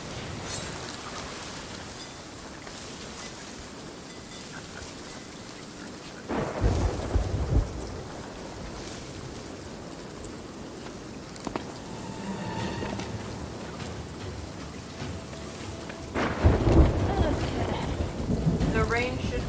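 Steady rain hisses through a Sea of Thieves storm, broken by two heavy thunder rumbles and a sharp crack, loud and close, with no voices over it.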